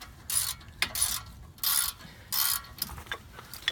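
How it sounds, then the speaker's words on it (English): Brake caliper bolts being unscrewed during a brake pad job: a close, mechanical ratcheting sound in four or five bursts of clicking with brief pauses between them, and no voices. "So I'm going to unscrew them."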